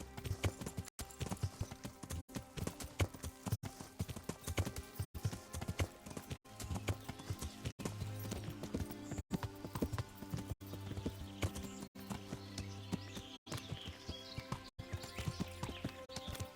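Steady clip-clop of horse hooves trotting in a quick, even rhythm in the video game Kingdom Come: Deliverance, with a constant musical drone underneath and no talking.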